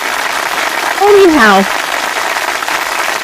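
Audience applause at a live author event: a steady wash of clapping fills the whole stretch, with a voice speaking briefly over it.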